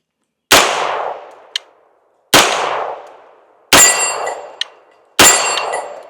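Four sharp 9mm shots from a Springfield Saint Victor pistol with a 5.5-inch barrel, each a loud crack with a ringing decay, spaced about two seconds apart, with a small click-thud of the trigger reset after the first and third shots.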